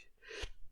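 A single short, soft sneeze bursts out once in a quiet room, brief and fairly close, with nothing else around it.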